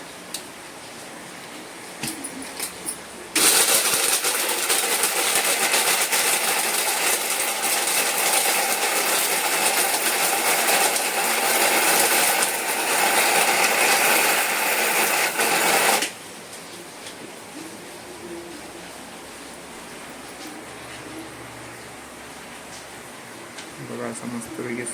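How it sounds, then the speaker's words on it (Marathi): A mixer grinder blitzes small crab legs in a loud, harsh whirring burst of about thirteen seconds, preceded and followed by quieter kitchen sounds and talk. "छोटे छोटे ते पाय आहेत. ते आता मिक्सर मध्ये वाटून घ्यायचे."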